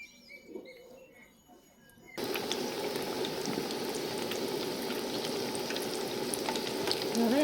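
Pumpkin fritters in gram-flour batter dropped into hot oil: quiet background for two seconds, then a sudden loud, dense bubbling sizzle that carries on steadily, close by.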